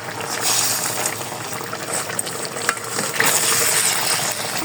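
Stuffed potatoes simmering in a spiced curry with ground garam masala and cumin paste, coming to a boil: a steady broadband bubbling hiss fills the whole stretch, with a few sharp pops and clinks rising above it, close and fairly loud.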